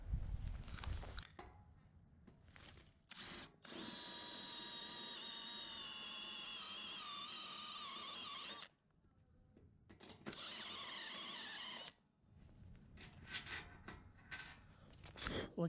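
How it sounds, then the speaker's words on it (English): A drill motor with a step drill bit whines in long runs broken by pauses as it cuts thin metal, its pitch shifting as the bit cuts, with handling clatter at the start and end. "If you're drilling something thin, get a step drill, they're amazing."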